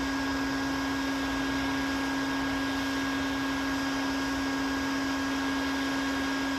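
A vacuum sucking up yellow jackets at a large nest in a low bush runs as a steady, loud, unbroken motor whine with a strong constant hum throughout, without any voices.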